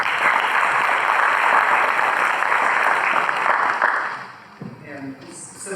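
Audience at a school debate event claps in a steady, fairly loud round of applause that dies away after about four seconds, followed by quieter room sounds and a voice.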